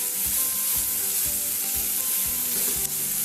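Onions frying in a pan for Goan chicken vindaloo, salted to draw out their water: a loud, dense, steady sizzle with soft rhythmic stirring scrapes underneath, close up and without speech.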